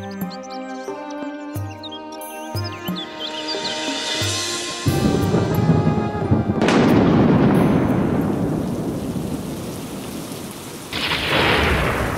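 Cartoon rain and thunder effect: a few soft tonal notes give way to a sudden loud thunderclap and rolling rumble over steady heavy rain, with a second crack near the end.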